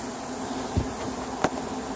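Honey bees hum in a steady, close buzz as they enter the hive during the collection of a swarm. Two brief soft knocks break the drone.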